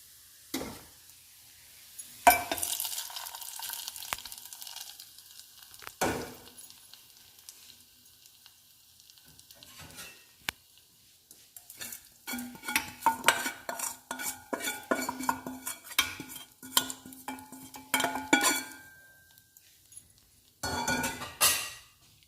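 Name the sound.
stirring tempering into red lentil dal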